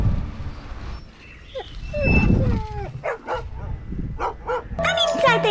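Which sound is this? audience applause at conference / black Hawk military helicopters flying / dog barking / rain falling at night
dog barking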